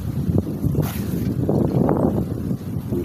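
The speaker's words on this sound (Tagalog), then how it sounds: "Sobra ng lakas ng hangin guys." Strong wind at sea buffets the microphone in a steady, loud roar, with rushing gusts and water noise around a small boat.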